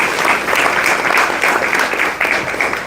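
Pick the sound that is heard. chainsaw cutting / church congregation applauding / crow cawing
church congregation applauding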